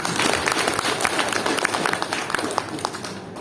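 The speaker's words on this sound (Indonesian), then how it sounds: "Kita tepuk tangan." A gathering of a parish mothers' group applauds a Christmas donation, rapid mixed clapping from many hands continuing steadily for a few seconds at moderate volume over a noisy room.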